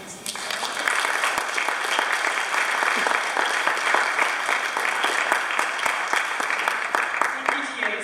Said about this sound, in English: can we give a warm round of applause for our experienced team?